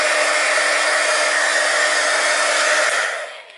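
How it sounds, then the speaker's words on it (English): A heat gun blows steadily at close range, drying a sheet of paper: an unbroken broadband rushing roar that runs loud and even for nearly three seconds before it winds down and fades at the end. "you can get out your heat gun and just simply dry it with that"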